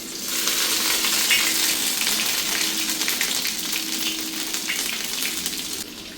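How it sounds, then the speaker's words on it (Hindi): Ginger, garlic and two slit green chilies drop into hot oil with cumin seeds for Sindhi kadhi, giving a loud, steady, close sizzle that hisses continuously throughout. "अब यहाँ पे अदरक लहसुन और 2 स्लिट चिलीज हैं वो ऐड कर रही हूँ"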